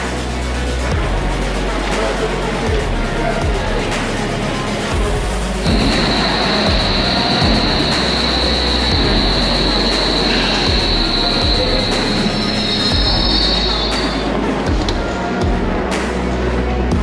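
A Hamburg U-Bahn train rumbles along the rails at close range with rhythmic wheel clatter, and a thin high squeal rises midway and fades.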